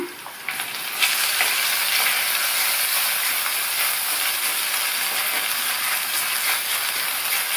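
Tomato sautéing in a pan for a festival side dish, a steady bright sizzle and hiss that swells after the first second and holds evenly throughout, with no talking.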